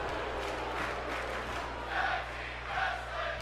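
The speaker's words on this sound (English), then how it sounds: "And now the crowd chanting tag team wrestling." Wrestling arena crowd at a tag team match, a broad roar of many voices swelling in rhythmic chant-like surges over steady low hum, moderately loud and continuous without clear talk.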